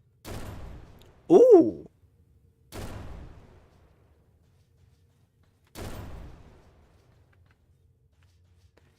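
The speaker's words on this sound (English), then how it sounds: "It's like a shotgun flat cannon kind of thing." A shotgun-like cannon fires in the video game Dolls Nest with three loud, separate blasts spaced a couple of seconds apart, each with a short decaying tail, and a voice briefly exclaims between the first two.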